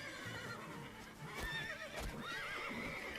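A horse whinnies in the Witcher 3 Blood and Wine expansion, a wavering high neigh with a few hoof clops underneath, fairly quiet and heard without talk.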